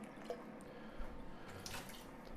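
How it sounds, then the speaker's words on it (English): Water is poured from a quart measure into a cooking pot while ramen is being made, a faint, close trickle with small splashes and drips, no talking. "I'm gonna add one more quart of water."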